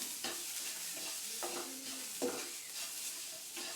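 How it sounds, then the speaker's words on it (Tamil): Semolina and grated coconut roasting in a pan, stirred with repeated soft scraping strokes over a constant dry sizzle, close by and with no talking. "துருவி வச்ச தேங்காயும் நம்ம இதில் சேர்த்து வறுத்து நல்லா வதக்கிடலாம்"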